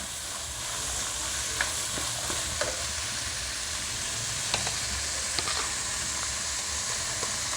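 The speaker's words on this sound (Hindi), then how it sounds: "इसकी हम अच्छी तरीके से भुनाई करेंगे।" Masala chickpeas for Memoni karhi chole, seasoned with chaat masala, roast in a pan with a steady close sizzle and faint scattered stirring clicks, no voices.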